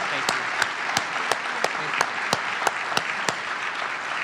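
An audience at a regional public-service gathering gives a round of applause: a continuous bed of many clapping hands, with a few sharp, evenly spaced claps standing out on a steady beat above it.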